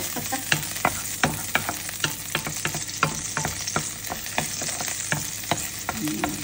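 Garlic sizzles in a pan on the stove, a dense, steady frying hiss broken by frequent crisp crackles and pops throughout, close and loud with no speech.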